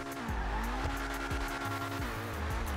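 Bugatti Divo and Ferrari 488 launching side by side in a drag race, loud sustained engine roar with repeated gear-shift drops in pitch and tire squeal, close and continuous.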